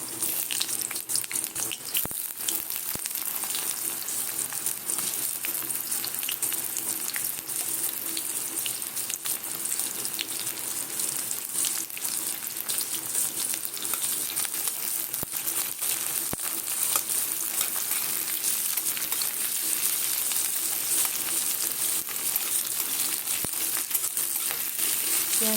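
Onions dropped into hot oil in a wok (kadhai) make a continuous, fairly loud bubbling sizzle with scattered crackles, steady for the whole stretch, with no voices.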